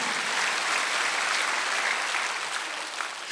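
A church congregation at a Wednesday worship service claps steadily, a dense and even wash of applause lasting a few seconds without interruption.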